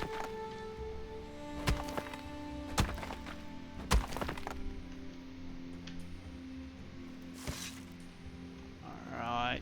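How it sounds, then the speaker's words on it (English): Chopping a small fir tree in the Viking survival game ASKA: about four sharp, separate wooden thunks at uneven gaps over a faint, constant outdoor ambience. "Let's go find a small tree to chop down here real quick."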